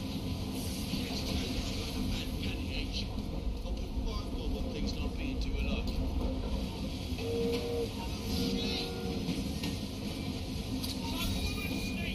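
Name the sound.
train moving and slowing, from the video game Assassin's Creed Syndicate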